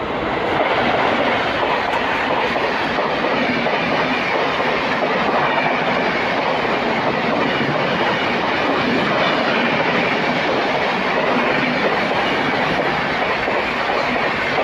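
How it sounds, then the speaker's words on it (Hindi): Train 22656, the Ernakulam Superfast Express from Hazrat Nizamuddin, roars past close by in a loud, continuous rush of wheels and rattling carriages with faint clickety-clack, steady throughout with no voices. "सामने से आ रही है ट्रेन नंबर 22656 हजरत निजामुद्दीन चलकर एर्नाकुलम को जाने वाली एर्नाकुलम सुपरफास्ट एक्सप्रेस"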